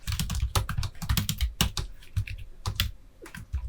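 Rapid, uneven keystrokes clatter on a computer keyboard close by, a brisk run of clicks with short pauses and no voices.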